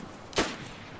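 A single gunshot in the DayZ Standalone video game, one sharp crack with a brief tail, somewhat distant, over a quiet background.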